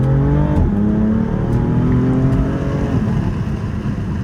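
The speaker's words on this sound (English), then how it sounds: "Let's give it one more downshift right here." A BMW M3 Competition F80 engine revs and blips through a downshift, a loud, close, deep mechanical roar with a rising then settling pitch and no talking.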